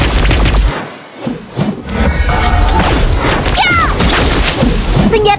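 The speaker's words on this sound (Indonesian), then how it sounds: "You destroy the turret." A turret blowing up in the Mobile Legends mobile game, a loud booming crash amid dense game effects and music, with further impacts and magical whooshes following and a voice briefly audible.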